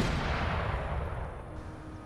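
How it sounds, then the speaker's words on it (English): Howitzers firing quicklime shells during an Empire Total War battle, a dense rumbling burst of artillery fire that starts loud and slowly fades over about two seconds, heard alone. "Can my howitzers hit them with quicklime?"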